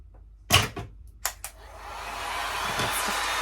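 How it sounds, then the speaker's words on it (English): A heat gun starts up with a few clicks and bumps, then blows a steady, close rushing whoosh while melting wax off candle-making equipment in a home studio. "use my heat gun to clean everything"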